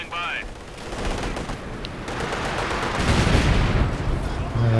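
Dense machine gun bursts and booming artillery fire from the video game Company of Heroes 2 on the Port of Hamburg map, a loud continuous fusillade of rattling shots and heavy impacts.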